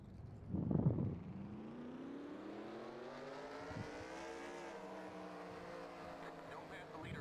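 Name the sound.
race car engines in video game NASCAR Racing 2003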